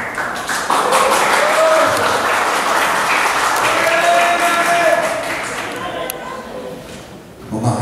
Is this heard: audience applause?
yes